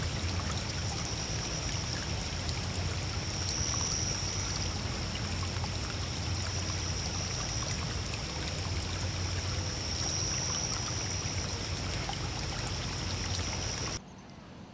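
Water flowing steadily along a brook at a pond, a continuous close rushing babble that holds for about fourteen seconds before dropping away abruptly.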